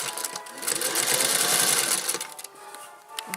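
Stitching an apron seam on a sewing machine makes a fast, close mechanical whir that runs for a couple of seconds, then slows and stops.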